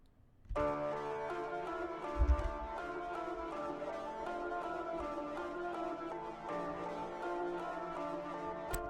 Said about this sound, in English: I noticed if when I put a slight delay on the guitar,